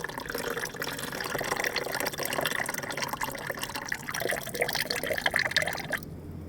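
Liquid draining and trickling from a container during gold recovery from laptop IC chips, a steady splashing pour that runs continuously and stops abruptly near the end.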